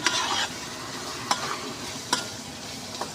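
Tomatoes frying in a pan give a steady, close sizzle, broken by three or four sharp scrape-and-stir strokes spaced through it, with no voices.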